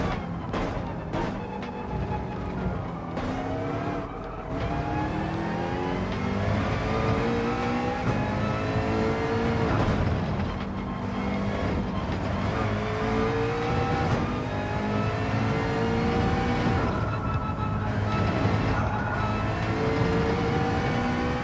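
A race car engine in Gran Turismo 7 revs hard and repeatedly, climbing through gears with rising whines, then dropping and surging again through corners, loud and continuous without talk.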